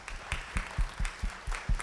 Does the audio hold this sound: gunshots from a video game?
no